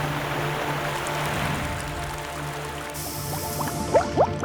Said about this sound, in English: Thousands of people listen to the sound of running water as a way to relax.